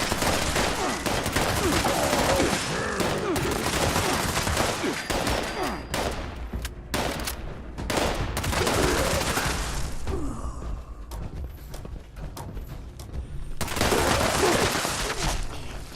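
Rapid bursts of assault rifle fire from a Stalker short assault rifle in Fallout 76, loud and dense at first, then thinning into scattered shots and a quieter gap before another heavy burst near the end.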